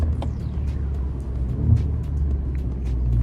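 An Alfa Romeo Giulia sits idling at a red light late at night, its engine a steady low rumble heard from inside the car, continuous and fairly loud, with faint faster ticks and clicks above it.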